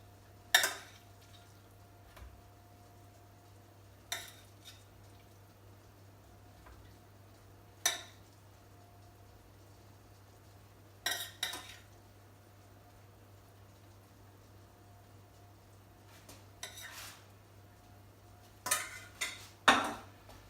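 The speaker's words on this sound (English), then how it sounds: "I'm just going to spoon those on top of the toast" Metal spoon clinking against a pan and plate while cooked leeks are spooned onto garlic-rubbed toast, a handful of sharp, separate clanks spaced several seconds apart over a quiet kitchen with a low steady hum.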